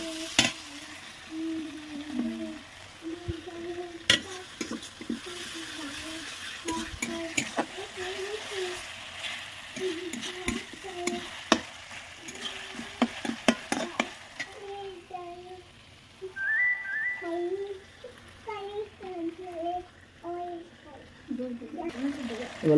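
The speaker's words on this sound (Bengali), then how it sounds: "এবার আদা রসুনটা দিয়ে দেবো।" Ginger-garlic paste fries in a pan as it is stirred, a low sizzle with spoon scrapes and clinks under frequent talking, including a voice, with a pause partway through.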